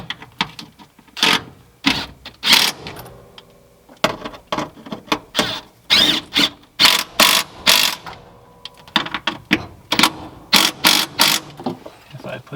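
A ratchet clicks as bolts are threaded onto a Ford F100 truck. Bursts of quick metallic clicks come close and loud, in short uneven runs with brief pauses, and light handling noise sits between them.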